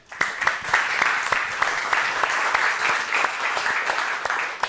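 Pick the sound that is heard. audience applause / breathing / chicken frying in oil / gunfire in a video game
audience applause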